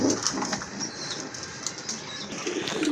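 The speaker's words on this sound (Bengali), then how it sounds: "আরেক জোড়া কবুতর দেখেন খুবই সুন্দর" Soft, repeated cooing of pigeons close by, with rustling and faint chirps in the background.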